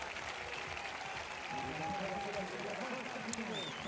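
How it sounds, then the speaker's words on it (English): Stadium crowd applauding a triple jumper at an athletics event, a broad distant roar of clapping under a commentator's voice. "That crowd still giving Mujahedin Ghazal a huge round of applause"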